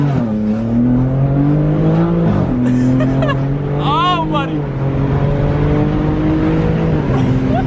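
BMW G80 fitted with new intakes and downpipes, no tune, pulls hard in Mexico. A loud engine note climbs and drops through several gear changes while voices call out over the roar.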